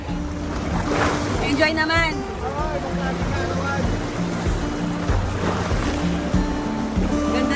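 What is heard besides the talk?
sea water splashing, waves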